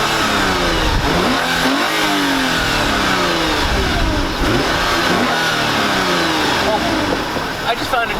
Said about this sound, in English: Do a few little revs.